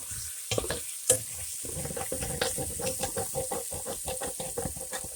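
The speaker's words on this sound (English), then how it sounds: "Get that all mixed in there and scraping up bits of underneath the bottom of the skillet." A spoon stirs a canned 4-ounce batch of green chilies through chicken and rice in a skillet, scraping the bottom amid steady sizzling; irregular close scrapes and clinks repeat over a continuous frying hiss, with no voices.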